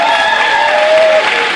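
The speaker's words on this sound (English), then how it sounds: "Let's give him another big round of applause." Loud, sustained applause from a crowd at a Guam Liberation event in Yuba Sutter, steady clapping throughout with no talk over it.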